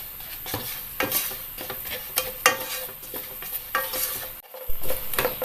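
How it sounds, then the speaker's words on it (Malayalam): Grated coconut is stirred and roasted in a pan over a low flame, with repeated scraping strokes of the spoon against the pan in an irregular rhythm over a soft, steady sizzle. No one speaks. "തീ തീരെ കുറച്ച് വെച്ച് കൈ എടുക്കാതെ തന്നെ ഇളക്കി ഒന്ന് മൂപ്പിച്ചെടുക്കാം."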